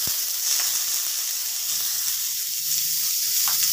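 Chopped radish goes into hot spiced oil for a Bengali radish dal, raising a steady, close, loud sizzle with a faint scrape of stirring, no voices.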